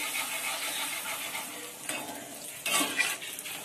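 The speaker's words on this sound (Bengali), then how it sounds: "এইভাবে তেলটা নাড়িয়ে নাড়িয়ে ফুচকাটা ভাজতে হবে" Fuchka puffing in hot oil produces a bright, continuous frying crackle, swelling louder toward the end as the oil is stirred around them with a utensil.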